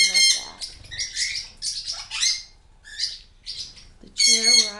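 Pet birds in a home bird room with a bamboo bridge, play stand and rope ladder squawk and chirp loudly and close by, in repeated bursts of harsh calls with brief quieter gaps.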